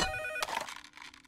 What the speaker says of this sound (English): The cheese phone. Truly an emergency.